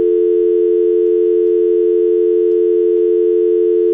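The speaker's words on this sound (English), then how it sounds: "Why is there just a dial tone?" Steady, unbroken telephone dial tone heard from a building phone line before any number is dialed, holding a constant pitch alone with no talk or other sounds.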